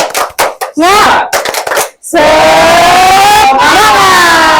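A class of students doing the tepuk semangat clapping chant, rhythmic group claps followed by loud shouted voices chanting together in unison, energetic and close, filling most of the clip.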